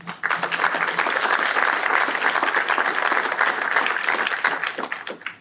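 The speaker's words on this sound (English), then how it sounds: "please give them a round of applause" Guests at an annual charity celebration gala clap in a lively round, individual claps crisp within the wash, swelling quickly and tapering off at the end.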